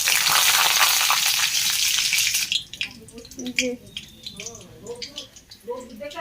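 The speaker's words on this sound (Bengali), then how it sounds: "তেল গরম হয়ে গেছে একটু শুকনো লঙ্কা দেব একটু কালো জিরা" Dried chili and black cumin hit hot oil with a loud, hissing sizzle that then drops to softer crackles as someone speaks over the pan.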